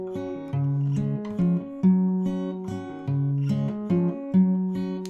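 A guitar plays the C transition figure from a song, starting on the fifth string: a clean, steady sequence of single picked notes with a repeating rhythmic pattern, close and clear with no talking.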